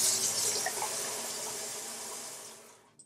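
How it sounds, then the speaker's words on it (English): A shower head sprays water at high pressure, a loud hissing rush close by that fades gradually before a final clunk. "So we can rain shower or blast it."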